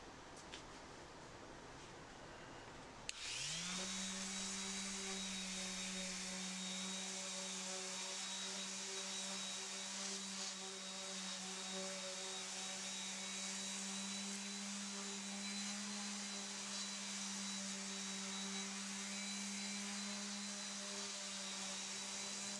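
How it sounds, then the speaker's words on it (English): A power sander sanding wood whirs up after a few seconds of quiet and then runs with a steady, loud motor drone to the end. "I then gave it another sanding on the other side."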